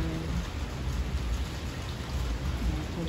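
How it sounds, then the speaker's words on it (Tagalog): Rain falls steadily outdoors in Phnom Penh, Cambodia, a dense, even wash of hissing noise with a low rumble underneath, no voices. "Umuulan na naman siya. Lagi talagang umuulan."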